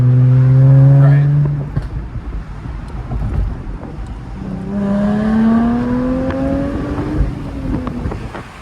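A Jaguar F-Type convertible with a V8 and manual gearbox revs while driving, the engine note rising in pitch through two pulls with wind buffeting, and voices talking under it.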